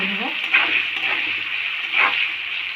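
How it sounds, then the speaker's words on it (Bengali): Potato pieces frying in oil with turmeric and salt give off a steady, close sizzle, with a few brief stirring swells along the way and no voices. "তেলে আমি আলু ভেজে নেব"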